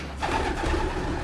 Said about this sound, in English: All pigeons are taken over.